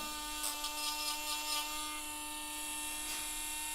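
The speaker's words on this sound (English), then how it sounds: "I'm going to Dremel some here." A Dremel rotary tool grinds a Yorkie's nails during grooming, giving a steady, close, high-pitched motor whine with faint grinding scratches over it and no talk.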